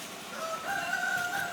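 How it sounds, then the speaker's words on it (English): A rooster on a small farm where a batch of hatched chicks grew into too many roosters crows one drawn-out, strained call, fairly clear and a little distant, with no talking. "Right now we've got too many roosters out there."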